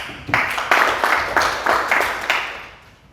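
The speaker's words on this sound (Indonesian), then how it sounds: "Tepuk tangan untuk Ketua Umum kita." An audience applauds at an Indonesian organization event, a short burst of clapping with several rhythmic swells that fades out over about three seconds, fairly close and loud.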